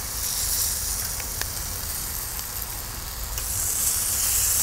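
Steady, close sizzling hiss as lobster claws cook on a hot plancha, a continuous frying rush with a few faint ticks and no talking.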